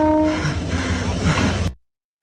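A train rumbles past with a broad, loud roar and a brief horn-like tone near the start, cutting off abruptly to silence after under two seconds.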